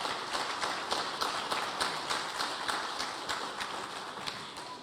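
Audience at a volunteer recognition awards night applauding: steady, dense clapping from many hands, moderately distant and continuous, gradually tapering toward the end.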